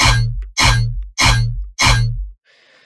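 Four heavy bass one-shot hits from a Serum tearout patch through a Kilohertz convolver fire in steady succession, each a loud, dense, distorted blast cut off sharply, followed by a faint, thin tail.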